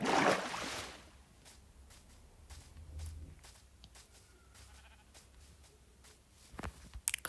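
A Minecraft sheep bleats a few times over soft ambient game background, with a louder burst at the start and a brief sharp sound near the end.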